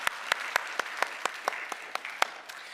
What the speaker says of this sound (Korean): 우리 하나님 앞에 감사와 영광의 박수 다시 한번 올려드리도록 하겠습니다